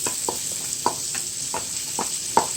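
Onion frying in oil in a pot after shrimp was cooked in the same oil, a steady close sizzle with repeated stirring scrapes at a regular pace, no talk.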